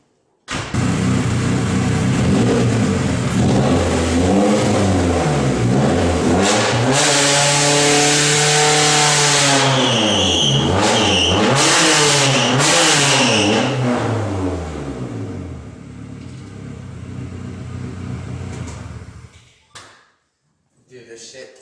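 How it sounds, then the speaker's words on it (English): Engine of a Nissan S14 entry-level drift car revving hard during a burnout attempt, rising and falling through loud sweeping revs with sharp bursts, tire squeal, then dropping away near the end. "Alright guys, we're going to try to do a burnout."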